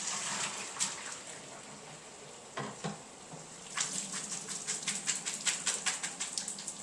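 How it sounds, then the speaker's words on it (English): Boiled broccoli is strained, with hot water pouring and splashing out in a steady gush, then a run of quick spattering bursts near the end. "Now that the broccoli's come to a boil, we're going to strain that out."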